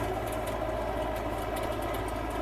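Tractor engine running steadily while driving an 8 to 9 foot rotavator-type super seeder, a continuous mid-pitched mechanical drone with even vibration, close and fairly loud throughout with no talking.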